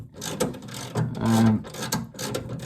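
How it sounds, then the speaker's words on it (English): A ratchet clicks in short bursts while bolts are tightened on a Mazda MX5 NC Mk3 Miata gearbox, with close metallic rasps and a brief humming tone mid-clip, and no talk. "Again, these don't need to be torqued up, just do them so they're tight."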